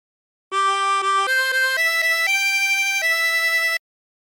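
A short phrase of La Cucaracha played on a 20-hole tremolo harmonica. It is a clean, loud run of about seven sustained reedy notes that step upward in pitch, then one final lower note, with no other sound.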